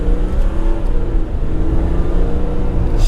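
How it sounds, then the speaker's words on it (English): A RAM pickup truck engine with a throttle booster in extreme mode runs steadily and loud, a low rumbling drone that holds for about three seconds without any voices. "I don't know if you guys can hear the engine"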